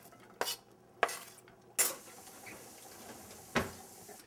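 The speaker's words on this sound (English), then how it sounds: "you want to have another skillet with a little bit of olive oil so you can saute the onions that you've just finely diced" Finely diced onions sautéing in olive oil in a skillet: a few sharp utensil knocks and scrapes against the pan, followed by a soft, steady sizzle close by with no talking.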